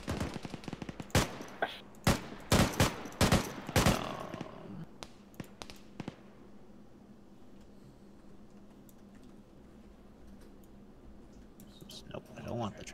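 Bursts of automatic gunfire in ARMA 3, loud rapid volleys over the first few seconds, then quieter scattered shots with people chatting.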